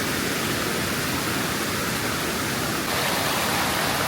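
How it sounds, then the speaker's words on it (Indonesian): A waterfall in Palau, reached after a short jungle hike, roars as a dense, continuous rush of falling water close by, steady and loud throughout with no voices. "Kita sampai di air terjun, salah satu air terjun terbagus di Palau."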